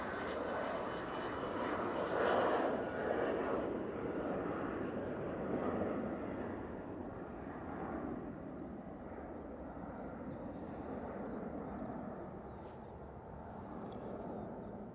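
An Airbus A319 airliner roars past at Manchester Airport, a broad, steady jet-engine rumble that swells and slowly fades over several seconds, moderately distant.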